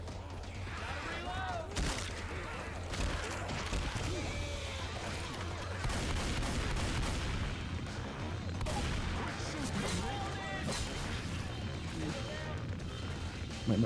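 Shotgun blasts and other gunfire from a shooter video game crackle through a dense, busy mix, heard under almost continuous talking from players.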